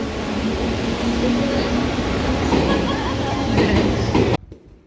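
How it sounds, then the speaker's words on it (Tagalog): A train rumbles past close by in a tunnel setting, a loud steady roar with faint clickety-clack lasting about four seconds before cutting off abruptly, with voices briefly audible around it. "Bye, train!"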